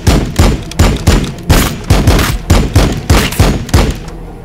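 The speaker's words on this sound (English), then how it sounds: "Firing on the enemy." Gunfire from the strategy game Warhammer 40,000: Battlesector, a loud rapid string of about a dozen sharp booming shots at a steady rhythm, close and unbroken by speech.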